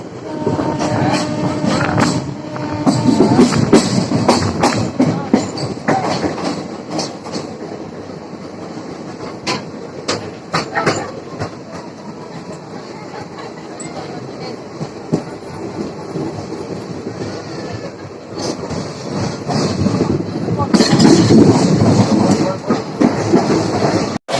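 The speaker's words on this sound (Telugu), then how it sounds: "సరే మీరు ఒకసారి ఈ ట్రైన్ సౌండ్ వినండి" A passenger train bound from Rajahmundry toward Tirupati runs at about 70 km/h near Davolu junction, its wheels clattering loudly and rhythmically over track switches, with a horn sounding and the roar building again near the end.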